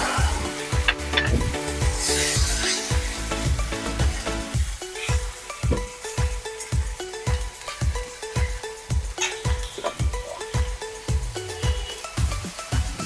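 Amadi fish curry sizzles loudly in a pan after a splash of water, a steady hot hiss overlaid with regular scraping stir strokes about every half second, close and continuous throughout.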